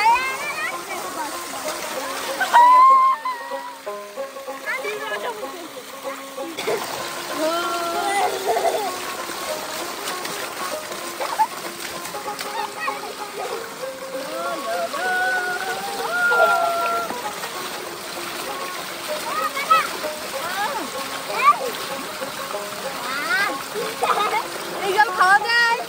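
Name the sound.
water splashing as a child bathes a doll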